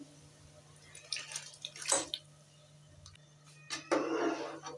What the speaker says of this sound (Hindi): अब हम इसमें अपने चावल डाल देते हैं।